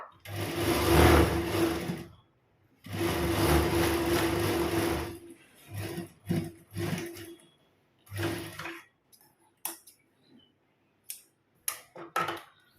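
A sewing machine stitches a kurti in bursts: two long runs of rapid mechanical whirring, then several shorter stop-start spurts and a few brief taps, close and alone with quiet gaps between.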